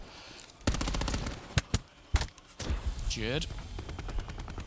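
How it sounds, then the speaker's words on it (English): Rapid bursts of automatic gunfire and sharp single shots crack through a Call of Duty esports match, loud and close, while caster commentary runs over the action. "And you hear all this gunfire?"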